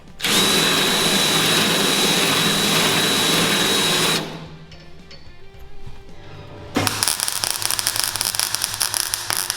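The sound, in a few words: plug welding a car door skin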